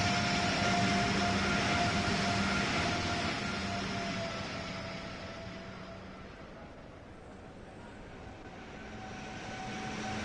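An NJ Transit train in Train Sim World 4 passes with a steady rumbling roar and faint tonal hums, loud at first then gradually fading before swelling slightly again.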